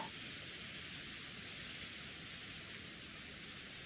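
Steady, dense rain falls outside during a typhoon as a constant broadband hiss that neither pauses nor changes level, with no voices.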